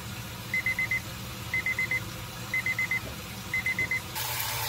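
A kitchen timer beeps in quick bursts of four, repeating four times at an even pace over a low background hum.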